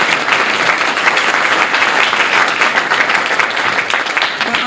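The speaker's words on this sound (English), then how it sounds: "Let's give a round of applause to the Country Club for all their hard work." A room full of guests at a Spirit of Rotary 2018 event gives loud, sustained applause, a thick, continuous clatter of many hands close by that holds steady from start to finish.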